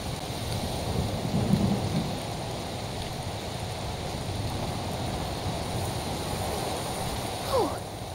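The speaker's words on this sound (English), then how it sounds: "Hey, look, a storm!" Dense, steady rain pours down with a low rumbling underneath, like a thunderstorm, and a brief voice-like sound near the end; a thunderstorm in the video game A Plague Tale: Requiem.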